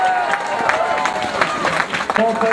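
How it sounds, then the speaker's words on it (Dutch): Warm applause from an outdoor crowd at a cyclocross podium ceremony in Maldegem, steady clapping heard under an announcer's amplified voice throughout. "Een warm applaus voor Klaas van Turnhout."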